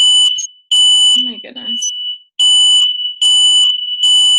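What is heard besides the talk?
fire alarm going off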